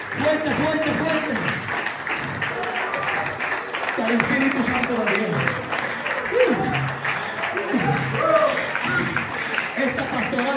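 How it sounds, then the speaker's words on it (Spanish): A congregation at a men's church retreat keeps up a long, strong round of applause, dense and steady across the room, while a preacher's voice calls out over it. "Den un aplauso fuerte al Padre."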